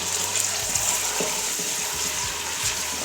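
Ginger garlic paste fries lightly in a pan, a dense steady crackle and hiss with a rattling, scraping texture throughout, close and fairly loud, no voices.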